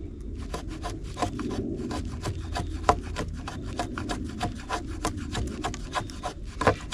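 The hollow-grind edge of a knife shaves curls from wood in quick repeated scraping strokes, close and steady, each pass a short dry rasp with no voice.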